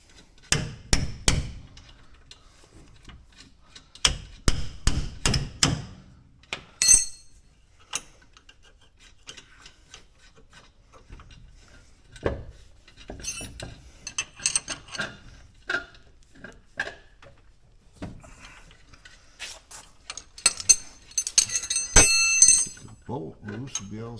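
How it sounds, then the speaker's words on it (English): Tools clank and tap on the brake bolts of a Trail Rider 570 in irregular bursts of sharp metallic knocks and ratcheting clicks, separated by quiet gaps. "What I'm doing is I'm loosening the bolt, I'm loosening everything up."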